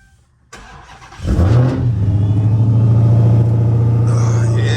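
A Hellcat car engine cranks and catches after a second of quiet, then settles into a loud, deep, steady idle rumble close by.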